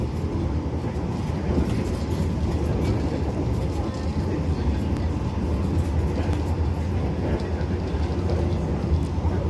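Inside an executive-class coach of Indonesia's Argo Lawu passenger train running at over 100 km/h, a constant loud rumble and roar of wheels on rails fills the cabin with a steady clattering drone.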